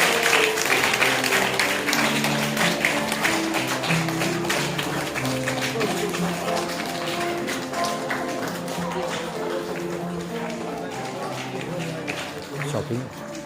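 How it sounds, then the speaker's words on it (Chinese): Guests at an Amis engagement and wedding ceremony clap steadily as the couple exits, a dense run of hand claps over music that continues throughout. "会众请拍掌"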